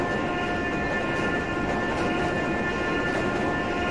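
A Minecraft IRT subway train pulls out of a station in a steady, loud rumble, with a constant droning hum and faint tonal whine sustained throughout and no voices.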